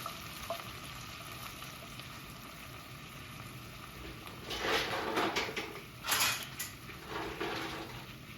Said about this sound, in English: I turn the gas right up, get the wine in there like that.